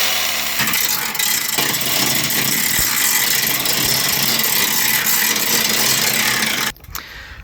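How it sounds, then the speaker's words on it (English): An angle grinder works rust off the underside of a 1994 Ford F150 OBS, between the cab and bed, with a loud, steady abrasive whine that runs nearly unbroken for about seven seconds before cutting off abruptly near the end. "So I'm going to use this angle grinder and grind this."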